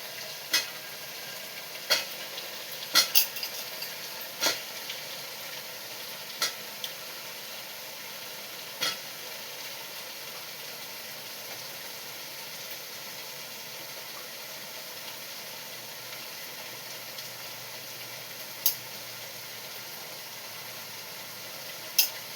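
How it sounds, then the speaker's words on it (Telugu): Chicken pieces fry in a masala in a pan, with a continuous soft sizzle and scattered sharp clicks and taps from stirring, close and fairly even in level, and no voices. "ఇప్పుడు చికెన్ వేసేసుకుందామమ్మ. ఎందుకంటే ఈ మసాలాలో చికెన్ కూడా పడుతుంది అన్నమాట, అందుకే చికెన్ వేసేసుకుందాం."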